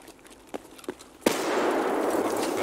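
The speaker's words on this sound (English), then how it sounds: "nade, watch out" Grenade blast in Escape from Tarkov: a couple of soft thuds, then a sudden loud explosion about midway that rolls into a sustained roar of debris and ringing noise until the end.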